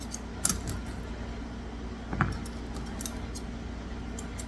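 Grooming scissors snip into a matted knot in a Morkie dog's hair, giving a few sharp, quiet clicks and snips spaced irregularly over a soft steady background hum.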